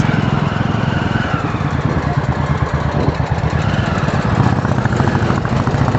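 Royal Enfield motorcycle engines thump loudly and continuously nearby, a chugging single-cylinder rumble as bikes ride past, with no talking.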